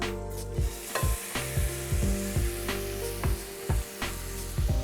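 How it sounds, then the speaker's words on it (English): Ground turkey fries in oil in a pan, a steady close sizzle broken by repeated scraping and stirring strokes at an uneven rhythm, with no talking. "Okay, so you're going to add oil to 2 pans. In one, you're going to add the meat."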